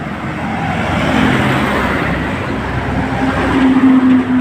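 Large container trucks roar past on a roadside, a loud continuous rumble of heavy engines and tires with swelling passes and no talk.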